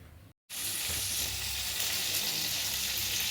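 Chicken fries in coconut oil with a loud, constant sizzle, broken only by a brief silent gap near the start before the crackling hiss resumes evenly.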